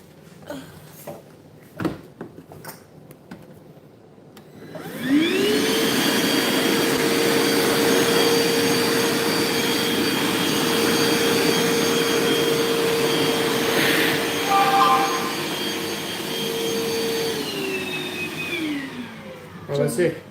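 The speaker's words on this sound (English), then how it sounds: "Let's vacuum these up here." A vacuum cleaner switches on and runs with a steady, loud whine for about fifteen seconds while sucking up staples, a few brief rattles heard as they go in, then the motor spins down at the end.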